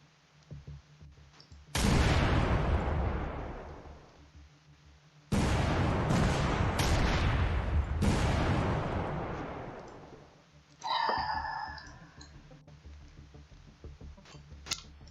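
In the video game Command: Chains of War, artillery fires on a radar with several loud, booming blasts, each rumbling and decaying over a few seconds, separated by near-silent pauses, with a few faint clicks.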